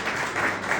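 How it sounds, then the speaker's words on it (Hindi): Brief burst of crowd clapping at an open fan meet-up, a dense wash of hands in a loose, uneven rhythm, moderately loud and heard alone. "जोरदार ताली बजाओ"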